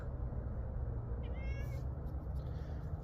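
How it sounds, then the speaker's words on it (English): A talkative cat lets out a single short meow partway through, faint against a low steady background hum. "We call him Mao because he never stops meowing."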